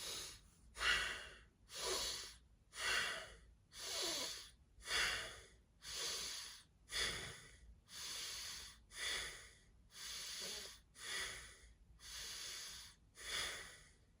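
Bhastrika yoga breathing: forceful nasal breaths pushed out from the belly, repeated in an even rhythm about once a second over fourteen seconds, close and breathy, with no talking.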